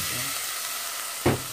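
A steady hiss of hot oil runs throughout; then meat lands in the pan with a sudden louder burst of sizzling near the end, while cooking for tabongaw.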